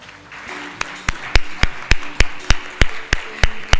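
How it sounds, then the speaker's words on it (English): One or a few people clap in a slow, steady rhythm at a conference meeting, each clap sharp and distinct against a faint room background. "A warm round of applause, please."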